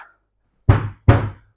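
Two heavy, dull thumps land about half a second apart, close and resonant, as a child jumps onto a sofa cushion.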